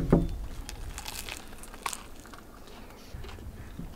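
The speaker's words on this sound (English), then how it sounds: "Give me the best crunch when you eat" A crunchy bite into crispy, cheese-crusted food, the cheese crisped and wrapped all the way around it, gives a sharp close crackle at the start, followed by quieter crinkling chews.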